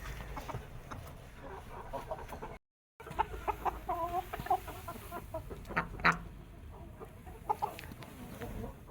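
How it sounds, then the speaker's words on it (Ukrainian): Chinese silkie roosters cluck and chatter at a moderate distance amid a busy background hum, with a brief dropout partway through. "Шовкові півники"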